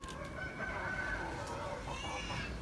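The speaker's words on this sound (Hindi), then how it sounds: "ये आप चेक कर सकते हैं मियाँ वाली के मुर्गे हैं" A Mianwali Aseel rooster crows once on a farm, a single drawn-out call heard at moderate distance over faint background noise.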